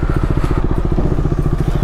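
A motorcycle engine idles close by as the bike is parked, with a steady rapid pulsing putter and no gaps.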